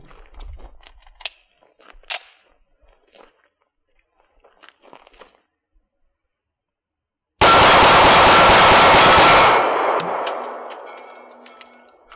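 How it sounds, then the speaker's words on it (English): A CZ .40 S&W concealed-carry pistol emptied in a rapid mag dump: a loud, dense string of shots packed into about two seconds, trailing into a fading echo after quiet handling noises. "we'll see how quickly one can do a mag dump with a 40 caliber concealed carry weapon"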